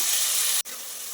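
Ginger garlic paste sizzles steadily in hot oil for a biryani with banana flower, a bright, dense hiss broken by a brief dip midway, then resuming a little softer.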